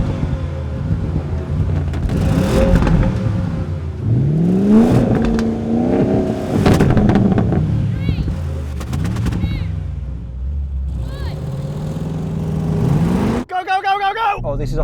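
A BMW X4M, AMG G63, Porsche Cayenne Turbo and Bowler Bulldog V8 drag race on a muddy track, engines revving and climbing in pitch as they accelerate, heard close under excited commentary and gusts of wind.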